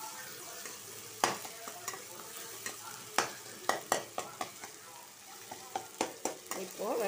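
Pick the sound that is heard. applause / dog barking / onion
onion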